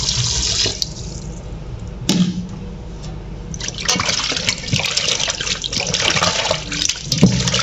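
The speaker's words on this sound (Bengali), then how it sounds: "কুসুম কুসুম গরম পানি দিয়ে ধোবো।" Tap water runs steadily into a sink while duck meat is washed in lukewarm water, a continuous splashing trickle with brief louder gushes and handling clatter, close and alone without speech.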